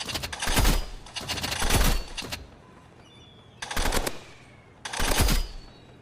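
Burst rifle fire in a video game, loud and close: four sharp bursts of rapid shots arrive in quick succession, separated by short quiet gaps, with a longer pause before the third burst.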